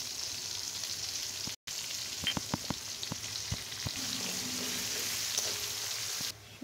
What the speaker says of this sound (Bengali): সুন্দর একটা পেঁয়াজের আর জিরা ভাজা একটা ফ্লেভার আসছে